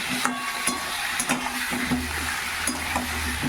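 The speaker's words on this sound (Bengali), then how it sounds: "ফোড়ন দিয়ে চাপিয়ে দিয়েছি মানকচু আর আলুটা" Taro and potato frying in hot oil after spices are tempered, with a continuous sizzle broken by several sharp clinks and scrapes of stirring.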